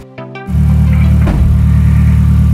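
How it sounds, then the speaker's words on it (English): A 500 bhp Audi TT fitted with a big Garrett G25-660 turbo cranks briefly, then catches and runs loud and close with a steady, throbbing engine note held at raised revs. "Jumped, give it a little rev. Listen to this turbo."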